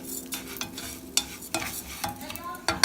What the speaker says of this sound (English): So I'm going to stir it up real quick so all the oil soaks into the rice.